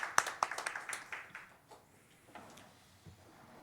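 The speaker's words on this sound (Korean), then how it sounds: "하나님께 영광과 박수를 드립니다." A church congregation claps during a Sunday worship service, a brief run of a few distinct close claps that quickly thins out into near quiet with faint scattered sounds.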